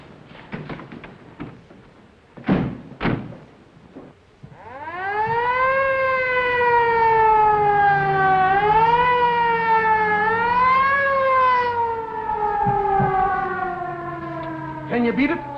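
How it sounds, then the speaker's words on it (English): Ambulance siren in a 1938 film, wailing in long rising and falling sweeps that swell loud and hold steady, preceded by a couple of sharp knocks and brief muffled voices. "Follow that ambulance."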